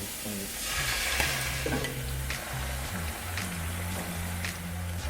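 Ground tomato hitting hot oil with golden fried garlic in a pan for octopus in its ink, a loud sustained sizzle and sputter with stirring scrapes, close and continuous.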